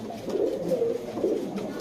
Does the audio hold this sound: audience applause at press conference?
no